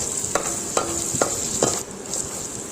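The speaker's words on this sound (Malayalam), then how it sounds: "പച്ചമുളക് നന്നായിട്ട് ഇളക്കി കൊടുക്കുക." Green chillies stirred while frying in hot oil, a continuous bright sizzle broken by a few distinct spatula scrapes and clacks against the pan, close up with no voices.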